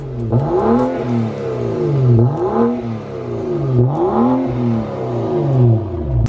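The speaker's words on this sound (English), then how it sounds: "that's pretty much what this car sounds like on just a muffler delete" A BMW F10 535i engine with a muffler delete revs repeatedly in several rising and falling bursts, loud and close, with a raw, throaty exhaust tone and no talking.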